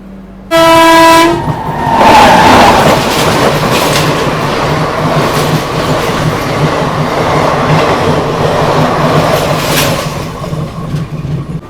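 The Puri - Chennai Central Weekly Superfast Express, an Indian Railways train, sounds a loud horn blast and then runs on with steady rumbling and rhythmic clickety-clack of its wagons on the rails, close and sustained.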